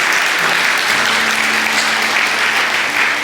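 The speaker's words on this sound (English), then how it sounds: "would you guys give him a round of applause for him?" A church audience gives a worship leader a round of applause, a strong, sustained crowd clapping that fills the room evenly without any talk.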